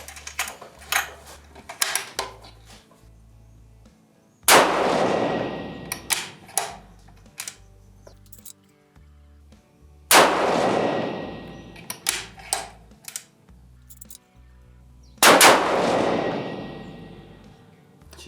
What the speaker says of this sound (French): J'ai été surpris par le coup de feu d'à côté.